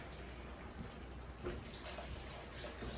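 Water pours steadily into a pot of ratatouille with courgette and a thyme bouquet garni, a faint continuous splashing trickle heard close by.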